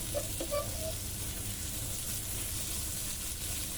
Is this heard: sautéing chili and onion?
yes